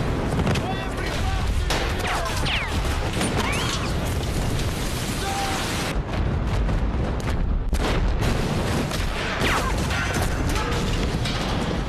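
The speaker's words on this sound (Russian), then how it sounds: "Батарея открыла по нам огонь." An artillery battery opens fire in a naval war film, with heavy booms, bursts and mechanical clatter packed into a dense, loud barrage. Voices are heard under the din.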